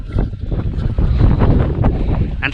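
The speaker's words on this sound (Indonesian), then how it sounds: "Dengar bunyi angin." Strong wind buffets the microphone high on Mount Slamet, a loud continuous low roar that gusts and rumbles throughout.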